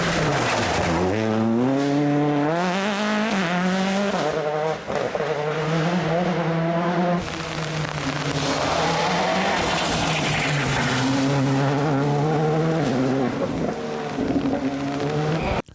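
A loud, revving rally car engine, a French hot hatch, climbs and drops through gears, with tires screeching and skidding as it powers along close by.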